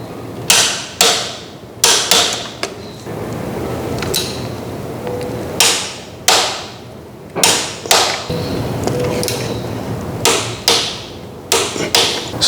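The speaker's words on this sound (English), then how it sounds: "get the torque wrench and tighten up to the level of torque indicated in the manual" A torque wrench tightens the rear brake bolts on a Honda CRF1100 Africa Twin motorcycle, giving a string of sharp metallic clicks and taps in irregular bursts, close and fairly loud.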